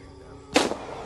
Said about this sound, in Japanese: 銃声やんめっちゃ